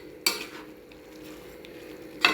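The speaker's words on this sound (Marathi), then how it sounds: "आता यामध्ये आपण दूधसुद्धा ॲड करणार आहोत." Milk is poured into a pan of carrot halwa with dissolved sugar, bringing a soft sizzle and stirring sounds, with a sharper clink or splash at the start and again near the end, faint and close.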